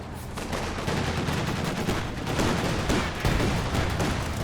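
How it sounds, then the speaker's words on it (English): Sustained machine-gun suppression fire from a half-track during a Company of Heroes 2 match, a dense, continuous rattle of rapid gunfire with heavier blasts mixed in, loud and close throughout. "And half-track getting some nice suppression in."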